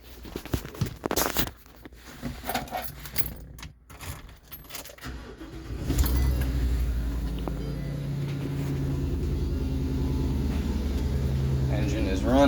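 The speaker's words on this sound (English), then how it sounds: "I'll go ahead and fire it up here real quick" Keys jangle and rattle before a 2021 Thor Outlaw motorhome's engine cranks and starts, then settles into a deep, steady idle rumble nearby.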